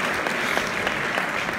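A live audience applauds at a show in a Welsh manor setting, a steady dense wash of many hands clapping, loud and sustained throughout with no talking over it.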